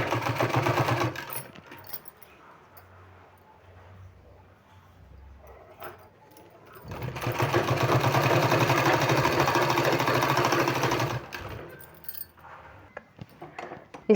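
A sewing machine stitches a folded 1.25-inch sleeve strip in two bursts, a short run at the start and a longer steady whir in the middle, close and alone with quiet pauses between.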